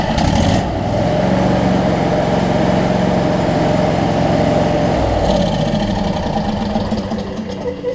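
A Briggs & Stratton V-Twin engine on a Craftsman DLT riding mower idles steadily and loud for most of the stretch, its low throb shifting near the end as the engine is switched off and winds down.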